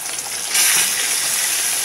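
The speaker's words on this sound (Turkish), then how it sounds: "Bak su damlacığı olduğu için böyle oluyor." Mullet fish frying in hot oil gives a steady hiss that jumps louder halfway through as water droplets make the oil spatter, close and continuous with no talking.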